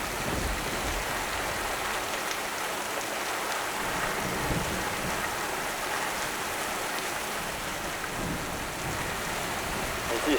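Steady rain falling outdoors, a dense even hiss of drops on surfaces at moderate level with faint low rumbles, no speech over it.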